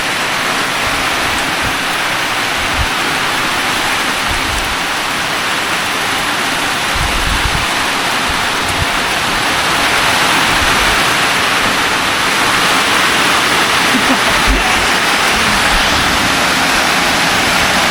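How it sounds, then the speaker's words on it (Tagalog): Steady rain falls outdoors in a forest setting, a dense continuous hiss with no pauses and occasional low thumps, loud and close throughout, with no voices. "Ulan naman mga par. Ulan na. Ulan na."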